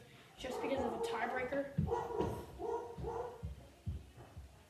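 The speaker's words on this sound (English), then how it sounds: "That's a dog." A dog barks several times in short bursts in the background while people talk over it.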